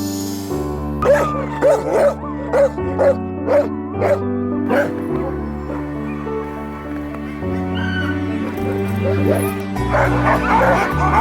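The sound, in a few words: dog barking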